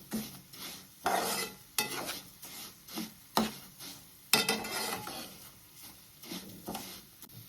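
Black gram dal being stirred and dry-roasted in a pan for a chutney, with scraping spoon strokes against the metal, a soft rattle of lentils and a faint sizzle, close and quiet, with no talk.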